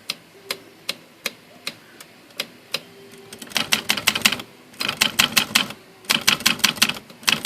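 A Facit manual typewriter, freshly repaired, clacks at close range, starting with slow single keystrokes spaced about a beat apart, then breaking into quick bursts of rapid typing with short pauses between runs.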